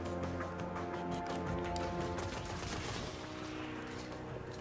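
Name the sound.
gunfire from enemies in the video game Destiny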